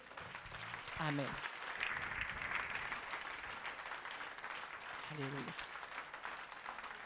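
A church congregation applauds during a French worship service, steady clapping that continues throughout while voices call out briefly over it.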